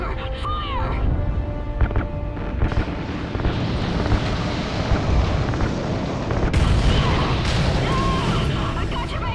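A low, rumbling explosion roars on as ignited RCS fuel lines blow in the Call of Duty Ghosts video game, with booms and blasts layered through a long, loud, dense burst and voices heard under it.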